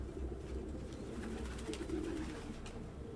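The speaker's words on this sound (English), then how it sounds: "No human could live with all these fucking pigeons." Pigeons coo softly in an apartment in the video game Detroit: Become Human, a low murmuring warble over a steady ambient bed, faint and continuous with no talk.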